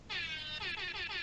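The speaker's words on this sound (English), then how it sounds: "if you're all quiet, you can hear the sound of the air horns." Loud, blaring air horn blasts with a bright, buzzy harmonic tone, sounding as one sustained honk that dips briefly and resumes, heard alone.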